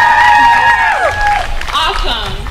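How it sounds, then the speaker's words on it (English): A festival crowd outdoors at a peace festival applauds and cheers loudly, with shrill whoops and shouts riding over continuous clapping. "Give me another round of applause."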